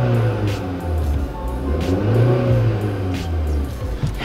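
A Volkswagen Cross Polo with a CVT gearbox revs close by, its mid-pitched engine rising and falling in a couple of loud swells with no talking over it.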